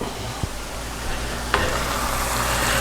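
Shepherd's pie filling sizzling and simmering in a pot, a steady bubbling hiss with a couple of spoon knocks against the pot, close and without talk.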